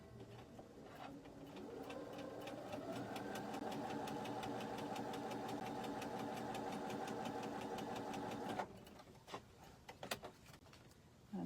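A sewing machine runs steadily for several seconds stitching quilt block squares, a close, even mechanical whir with rapid rhythmic clatter, then stops and gives a few separate clicks and knocks.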